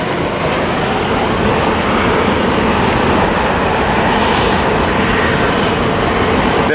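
United Boeing 737 airliners landing near a rail line, a loud, steady broadband roar of jet engines sustained throughout with no voices.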